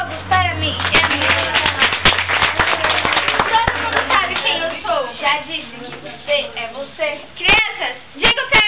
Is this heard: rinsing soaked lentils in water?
no